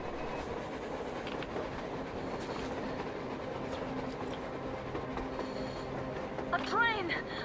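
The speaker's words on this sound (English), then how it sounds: "A train! A damn train on the surface!" Train rolling along the surface in the video game Metro Exodus, a steady rumbling clatter of wheels on rails with a brief squeal near the end, heard under people talking.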